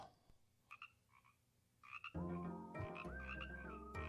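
Frogs croak without any voices: scattered calls at first, then a louder, denser run of croaking that fills the second half.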